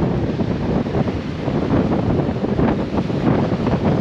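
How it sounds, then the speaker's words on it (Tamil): Strong seaside wind at Manapad buffets the microphone in a steady, loud, broadband roar that never lets up, with no voices. "காற்று பார்த்தீங்கன்னா வேறு லெவலில் அடிக்குது."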